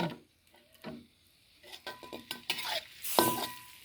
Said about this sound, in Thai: เคี่ยวกะทิให้ขึ้นมันก่อนนะคะ